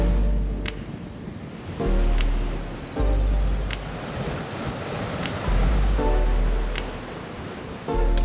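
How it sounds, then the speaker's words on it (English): Storm waves crashing against a cliffed island coast, rushing surf swelling and breaking in repeated surges, heavy wind buffeting throughout and no talking. "just looking across the crashing waves"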